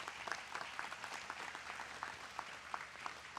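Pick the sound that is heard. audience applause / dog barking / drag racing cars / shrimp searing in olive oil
audience applause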